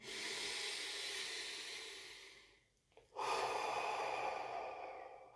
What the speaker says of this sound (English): let's take a deep breath. One more.